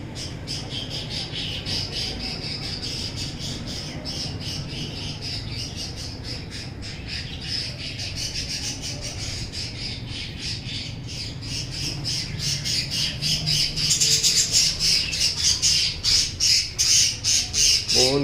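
A pair of white pet parrots, a male and a female, squawk loudly outdoors in continuous harsh repeated calls that grow louder and more rapid toward the end.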